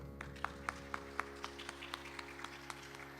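A congregation at a Sunday service claps for a birthday, a short burst of scattered, moderately distant hand claps over a quiet hum.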